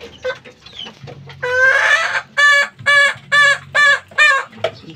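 Fighting-breed chickens and chicks cluck close by, with a rising squawk followed by a rhythmic series of five loud, evenly spaced clucks over soft peeping and background noise.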